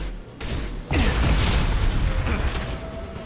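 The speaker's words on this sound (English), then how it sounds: "Gun shooting." Gunfire in the video game Mass Effect 2 rolls out as a dense, booming burst of shots and impacts, loud and continuous over a rumbling battle backdrop.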